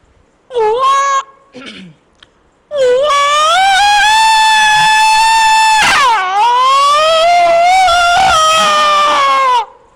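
A voice imitates a big dog howling: two short whines, then a long, drawn-out wavering howl that rises and falls, close and loud.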